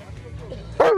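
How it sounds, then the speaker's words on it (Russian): A police service dog working with special forces gives a loud, sharp bark near the end, following quieter background voices and faint whimpering sounds. "Собака догнала подозреваемого и вцепилась в одежду."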